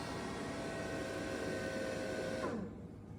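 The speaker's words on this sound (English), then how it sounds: "That's the fan sound. Do you hear that?" The cooling fan of an Anker Solix 1000 power station runs under a load of nearly 1900 watts, a steady close whir with a faint tonal hum that winds down and stops just before the end.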